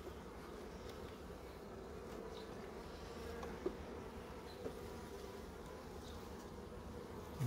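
Faint, steady low buzzing of bees humming around nearby, with a few soft taps and knocks over the drone.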